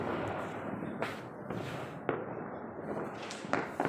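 Bullet bomb firecrackers explode outdoors during Diwali, with a few sharp, distant bangs spaced irregularly over a low background rumble and no talk.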